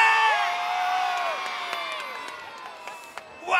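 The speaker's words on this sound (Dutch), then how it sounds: "dan moeten we met z'n allen heel hard juichen" A crowd of children cheers loudly for Sinterklaas's arrival at a Sint Nicolaas celebration. The long drawn-out shout rises and holds, then tapers, and a fresh burst of noise comes at the end.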